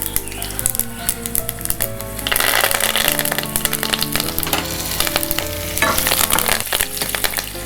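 Chilies and curry leaves hit hot oil for tempering, crackling and sizzling loudly, with the spitting swelling in bursts alongside stirring noises and a thin layer of background music.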